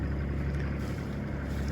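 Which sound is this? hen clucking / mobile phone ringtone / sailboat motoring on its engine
sailboat motoring on its engine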